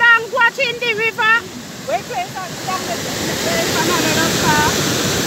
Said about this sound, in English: This is the fancy river. We are on the bank watching the river.